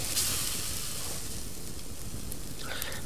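Food cooks over a fire in a survival game, a steady close hiss and sizzle running throughout with faint crackles and a brief clink near the end.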